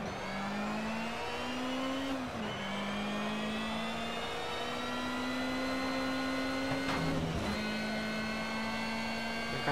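A car engine revs steadily in the racing game Need for Speed: Shift 2 Unleashed. The loud, continuous drone climbs in pitch, with brief dips at gear changes and no talking over it.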